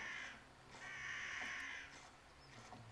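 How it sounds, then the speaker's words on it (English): In the video game Legacy of Rosemond Hill, two or three harsh crow caws sound loud and close, with a low steady hum underneath. "Stupid crows."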